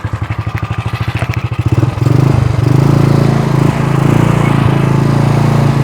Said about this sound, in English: Side shaft motor with gears.